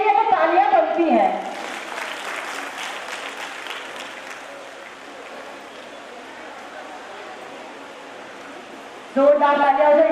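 Applause from an audience at an award ceremony in Hardoi, a dense sustained wash of clapping lasting several seconds, framed by talk at the start and end.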